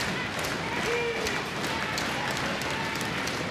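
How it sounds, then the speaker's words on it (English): A loud crowd at an independent wrestling show in the Cambridge Isanti High School gym makes a steady wash of cheering and clapping that fills the room, with scattered whistles rising briefly above it. "Loud, raucous crowd here at Cambridge Isanti High School."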